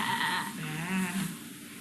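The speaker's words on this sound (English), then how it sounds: "there's our sheep that says bah" A toy sheep gives a short wavering bleat, a single nasal bah lasting under two seconds, heard close and fairly clear.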